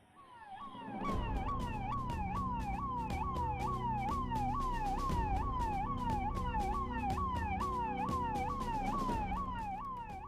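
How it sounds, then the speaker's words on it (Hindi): A loud wailing siren on a red-beacon vehicle in India, rising and falling rapidly in a steady rhythm, close by, with a low engine rumble underneath. "ये लाल बत्ती और सायरन की कान फोड़ू आवाज कभी आपको परेशान करती है?"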